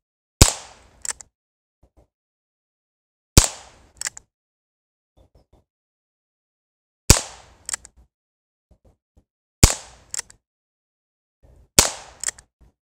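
A Heritage 16-inch .22 revolver fired outdoors, five sharp single shots spaced a few seconds apart, each a crisp close crack followed by a brief echo and small clicks between shots.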